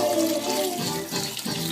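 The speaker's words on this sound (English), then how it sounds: "now I'm going to pour in some low-sodium chicken broth" Low-sodium chicken broth poured from a can into a pot of curried pumpkin soup, a steady liquid glugging stream that shifts and briefly falters, heard close and clear with no speech.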